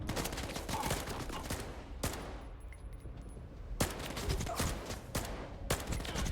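Bursts of 9mm submachine gun fire in STALKER 2, several rapid volleys separated by short pauses, loud and close over a steady background din.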